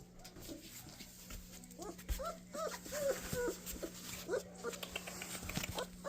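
Four-week-old puppies whimper and squeak in short, faint, repeated high cries close by in a quiet room, with soft rustling and a steady background hum.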